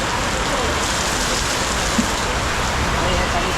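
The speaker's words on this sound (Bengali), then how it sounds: "বাট যে পরিমাণে বৃষ্টি হচ্ছে" Heavy rain pours down beside a roadside shop, making a dense, continuous hiss and patter that stays steady and loud from start to finish.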